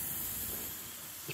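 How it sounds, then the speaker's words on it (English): A Zuru Smashers toy mixture fizzes with a steady, close hiss that fades slightly before a small bump at the end. "it will fizz. Yeah. It will erupt."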